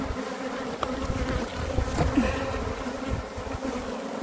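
Honeybees drone steadily and close by while a hive is opened for inspection, a dense continuous buzz that holds even in level throughout with no talking.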